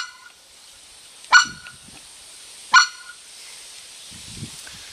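Two sharp, loud honking calls imitating a white-fronted goose for hunting, spaced about a second and a half apart, each a short clean blast with soft rustling in between.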